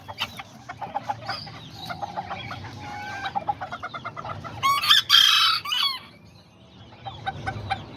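Serama and Azteca chickens cluck in quick bursts and one crows loudly midway, close by, with no talking.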